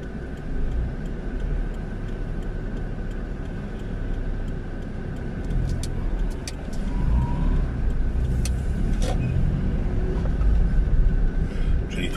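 A car drives slowly along a town street in Dąbrowa Górnicza, Poland, heard from inside as a steady low engine and road hum that swells slightly later on, with faint ticking and no talking.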